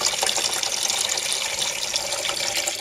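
Coolant pours steadily out of an Onan diesel RV generator into a drain pan: a continuous, fairly loud liquid gush and splatter with no pauses and no talking.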